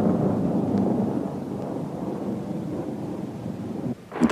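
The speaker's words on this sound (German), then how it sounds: "Am fünften Tag kam ein Gewitter. Beim ersten Donnerschlag verkroch sie sich unter den Fliederbüschen." Thunder rolling through a thunderstorm, a long, steady, deep rumble that stays loud for about four seconds, dips, then ends in a short sharper crack, with no voices.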